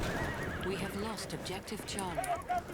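Horse neighing in the World War I shooter Battlefield 1, a few short whinnies rising over busy game noise while someone talks over it.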